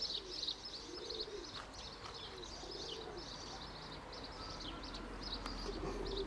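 Repeated low pigeon coos rolling in a slow rhythm, with light bird chirps above, fairly quiet and outdoors.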